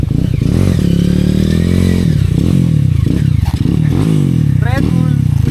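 A trail motorcycle, a small Honda CRF150-type dirt bike, revs and labours over a rough dirt trail, its loud buzzing engine rising and falling continuously close by, with clattering knocks; a rider's voice talks over it.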